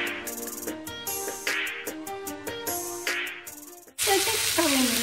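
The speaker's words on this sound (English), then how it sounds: "you just really keep frying it up like this until the strawberries kind of reach like a like strawberry pie kind of consistency" Cashews and strawberries sizzle and crackle in a frying pan, with bursts of stirring and scraping over a steady fry that grows louder and hissier toward the end.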